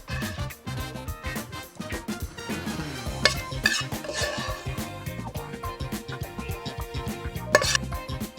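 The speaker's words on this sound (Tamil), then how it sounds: "ஒரு சின்ன பிளேட்டில் ட்ரான்ஸ்ஃபர் பண்ணுறேன்." Masala egg rice being scooped from a pan and transferred onto a small plate, with repeated clinks and scrapes of a metal spoon against cookware at close range, no talk.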